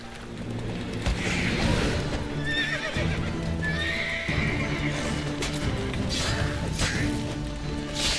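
Roach, the player's horse in The Witcher 3, whinnies repeatedly over a continuous clatter of hooves, close and loud, with a few crashing knocks mixed into the galloping rhythm.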